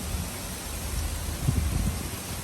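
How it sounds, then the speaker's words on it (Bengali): Heavy monsoon rain in a rural fishing area pours down as a dense, steady wash of noise, with a low rumble swelling briefly midway and no voices. "কঠিন বৃষ্টি শুরু হয়েছে"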